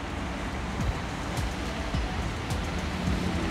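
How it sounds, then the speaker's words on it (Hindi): A cat water fountain runs nearby with a steady, close trickling and splashing wash of water, continuous and even throughout with no voices. "फाउंटेन।"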